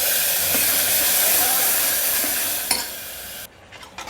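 Ground tomatoes go into a pan of lentil-free tiffin sambar, a loud, continuous sizzle and hiss with stirring scrapes that drops off sharply toward the end.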